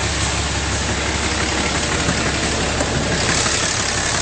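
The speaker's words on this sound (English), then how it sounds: "under the hood, a nice clean engine bay running very smoothly." A 2008 Dodge Ram 2500 with a 6.7L Blue Tec diesel idles steadily under an open hood, a loud, close, continuous rumble with an even clatter and no voices.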